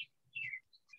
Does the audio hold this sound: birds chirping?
yes